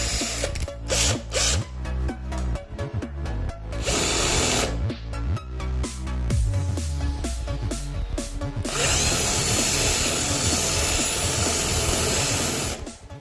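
Power drill boring a hole through an illuminated sign letter to pass an LED connector, a loud, steady whine running throughout with short bursts and surges, rising to a harsher, hissing cut in the latter half; no talking.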